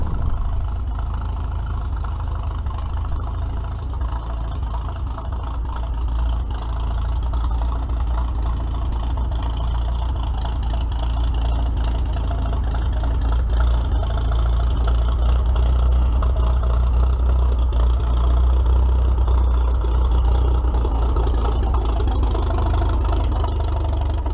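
An engine from an early-winter ride, started after sitting about two months, idles loud and close as a steady, deep rumble with a slight uneven throb that holds unbroken throughout.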